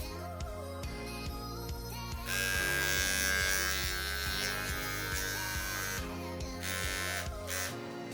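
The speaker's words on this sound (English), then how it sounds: "There's the razor." A Wahl electric razor runs with a strong, steady buzzing hum, close and loud, sustained through the middle before the motor note fades back toward a quieter level, with no talking.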